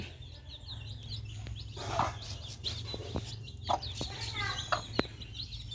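Hens and young chicks being raised at home cluck in short scattered calls over a steady low hum, with a few sharper peeps rising above the background.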